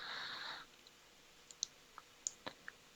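A few faint, sharp computer mouse clicks sound in quick, irregular succession in a quiet room after a brief burst of noise, each click short and dry.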